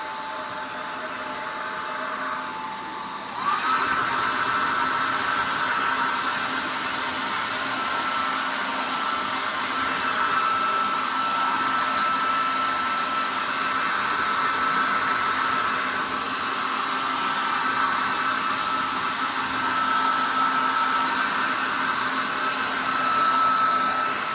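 Steady, loud whir of a blow dryer drying the thick, double-coated fur of a Shepsky puppy, switching up in intensity after a few seconds and then droning on continuously and close by with no talk over it.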